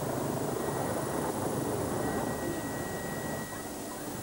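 A South African rescue helicopter flies over flooded land, its rotor and engine drone a fairly faint, steady wash for a few seconds.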